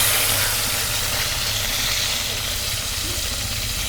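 Ground spice pastes hit hot mustard oil in a kadai and give off a loud, steady sizzle and hiss close by for the whole moment.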